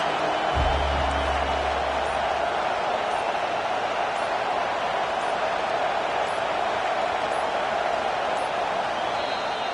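A packed stadium crowd roars at an East Carolina football game, a continuous loud wash of noise that never lets up, with a brief low thump early on.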